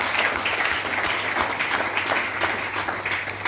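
A church congregation applauds together for a few seconds, a dense, steady wash of clapping hands that stays fairly even with no talk over it.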